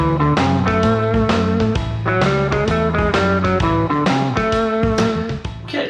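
An electric guitar plays a blues lick with chromatic notes over a backing band with bass and drums, loud and continuous.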